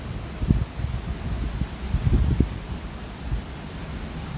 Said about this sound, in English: All this wind, don't know what to do about it.